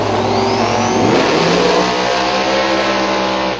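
A big block twin turbo drag racing car engine revs loud and close at a drag race, its pitch climbing and then settling into a sustained roar that fills the whole stretch.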